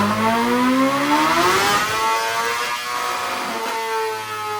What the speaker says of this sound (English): Let me show you what second gear looks like, which on the dyno, check this out